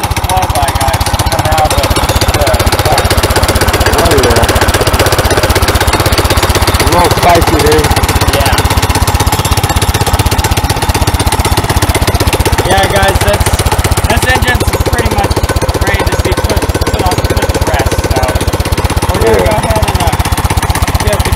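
A swapped-in engine on a go-kart runs steadily at close range, a rough, buzzing, continuous drone with rapid mechanical chatter and no pauses.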